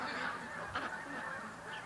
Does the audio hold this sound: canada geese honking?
yes